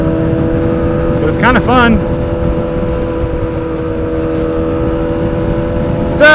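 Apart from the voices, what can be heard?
Yamaha R6 motorcycle engine running loud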